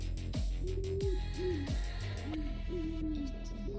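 A pigeon making owl-like hooting calls, a series of soft, rising coos repeated about five times over a steady background hum, with occasional clicks, nearby and fairly clear.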